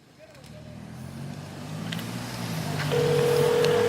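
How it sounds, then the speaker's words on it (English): A steady electronic ringback tone from a Verizon phone call starts near the end and plays through a speakerphone, over a low hum of room or engine noise, in Sonoma, California. "We got that on speakerphone. I can hear it ringing."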